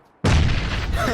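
A grenade detonates in the battle-royale game PUBG: a sudden, loud, close boom bursts out of near silence and rumbles on with a sustained blast tail, with no voices over it.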